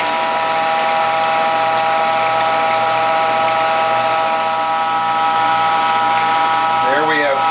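A juicer presses vegetable juice from parsley, dandelion, collards, beets and carrots, giving a steady, loud mechanical pump-like hum with a faint clatter near the end.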